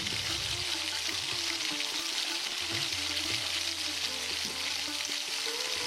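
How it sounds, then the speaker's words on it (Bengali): Pieces of chital fish frying in a kadai pan, a steady close sizzle and crackle of hot oil with faint stirring and clatter underneath. "এইভাবে আমি সবকটা মাছ ভেজে নিয়েছি"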